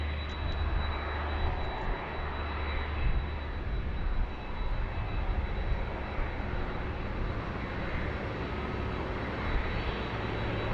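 Airliner on final approach to runway 16 right at Sydney Airport, a sustained broad engine roar with a faint high whine, steady and fairly close throughout.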